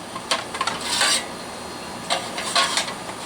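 Metal parts of a military alcohol stove set into place on small wire risers, giving a few light metallic clinks and rattles in two short bursts, close by and with no talk.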